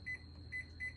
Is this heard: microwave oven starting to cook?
yes